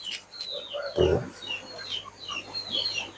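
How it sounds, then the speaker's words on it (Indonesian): Backyard chickens cluck and chirp softly during feeding at a small fish-farm with biofloc ponds, scattered short calls over a steady low hum, with one louder burst of clucking near the start. "Nah, ini ada ayam, kita kasih makan dulu ayamnya ya."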